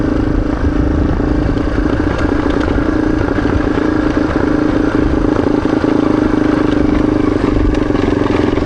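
Motorcycle engine idling steadily as the bike coasts downhill along Tatham Gap Road, a constant low rumble with light clatter running unbroken throughout, close and fairly loud with no talk.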